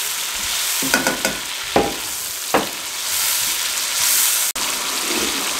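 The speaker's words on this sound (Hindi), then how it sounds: "हाई फ्लेम पे 5 मिनट इसको फ्राई कर लें ऑयल में" Marinated chicken frying in oil over a high flame, a loud continuous sizzle broken by a few scraping stirs and a brief clatter near the end, with no voices.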